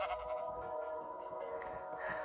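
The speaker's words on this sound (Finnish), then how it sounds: "Lammas menee." Sheep bleating in Minecraft, several short blocky bleats over a steady game backdrop, fairly close and moderately loud, with no talking.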